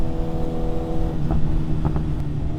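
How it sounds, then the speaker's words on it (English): Sustained engine rumble from a 2026 BMW S1000RR sport bike on its stock muffler at a Sarasota cars and coffee meet, a steady low drone with a few brief throttle blips, heard close without talk. "It's always nice to hear your bike too."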